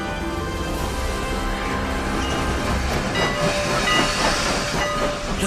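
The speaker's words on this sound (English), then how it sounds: "Look at this fabulous train." Strasburg Railroad steam train in Pennsylvania, a steady loud rumble of rolling cars with hissing steam and faint whistle tones, continuous and near, no talk.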